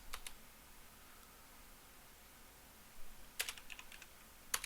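Quiet computer keyboard typing of a Google search comes in two short bursts of crisp key clicks, with a faint background hiss between them.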